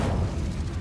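A fiery Incendio spell burst in Hogwarts Legacy, a dense, rumbling blast of sustained low roar that fills the short moment without a clear break.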